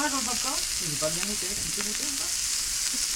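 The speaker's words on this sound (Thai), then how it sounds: "บาร์บีคิวไส้กรอกค่ะ" Steady, loud sizzling of sausages cooking on a barbecue grill, with faint background voices underneath and no clear speech.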